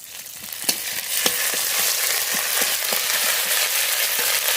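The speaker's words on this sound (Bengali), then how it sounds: "মশলাটা কষানো হয়ে গেছে" Spice paste of cumin, ginger and chopped chilli with salt and turmeric sautés in a pan, a steady close sizzle with a few sharp spatula scrapes and taps scattered through it.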